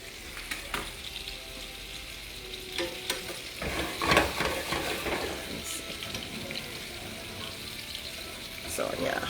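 Salmon searing in a hot pan on a turned-up burner, a steady soft sizzle and crackle with occasional stirring scrapes and brief tap water, fairly quiet and close.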